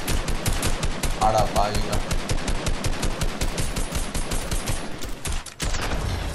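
Rapid automatic gunfire in the video game Fortnite, dense bursts rattling almost continuously with a brief gap near the end, while excited players talk and shout over it.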